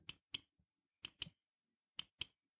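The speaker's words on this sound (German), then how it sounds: "Wenn nicht, es ist ein Mausklicken." Clicking of a 1984 Macintosh computer mouse: six sharp, crisp clicks in three closely spaced pairs, each pair about a quarter second apart with longer gaps between pairs, heard alone and fairly faint.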